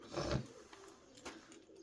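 Soft, low cooing of pigeons, a few muffled coos close by against quiet background noise.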